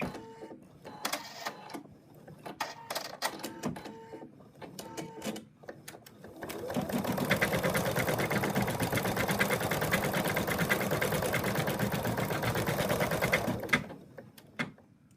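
Computerized embroidery machine stitching a placement line for the feet of a cat applique, a few short stuttering bursts and then a steady, fast rattling stitch run of about seven seconds.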